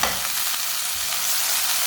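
Finely chopped green chili is stirred into garlic, onion and finely chopped tomato frying in a pan, producing a steady bright sizzle with soft stirring scrapes, close and continuous.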